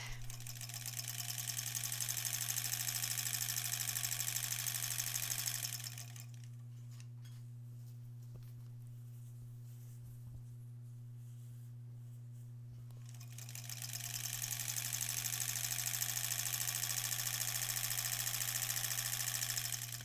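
Sewing machine piecing together quilt scraps from a granny-square improv project, stitching in steady bursts before and after a quiet pause in the middle, with a constant low hum underneath throughout.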